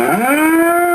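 A single loud cow moo near railway tracks, one drawn-out low bellow rising in pitch at the start and then holding steady, close and clear.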